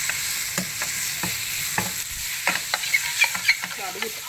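A spoon stirs sun-dried cucumber curry seasoned with turmeric and salt in a pan, sizzling steadily while irregular scraping strokes repeat close by, growing busier toward the end, with no talking.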